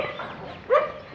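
A single short dog bark or yip rings out faintly from dogs kept in cages at a dog care center in Nakhon Pathom, Thailand, over a quiet background.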